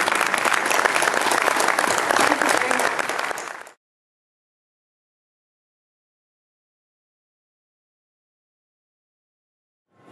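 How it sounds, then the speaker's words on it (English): Applause from an audience for panel speakers at a solar industry conference, a dense, loud wash of clapping lasting a few seconds before cutting off abruptly into silence. "show your appreciation as well with a round of applause for our excellent speakers"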